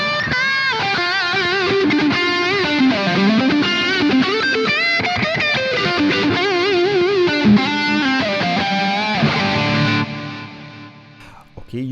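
An electric guitar through a Kemper profiling amplifier on a solo patch with delay and reverb plays a sustained, distorted lead line with bends and repeating echoes, then its reverb tail fades out alone near the end.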